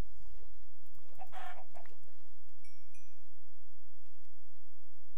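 Minecraft chickens cluck nearby in short bursts, a louder flurry in the middle, while a faint tonal blip sounds briefly and steady low background hum continues underneath.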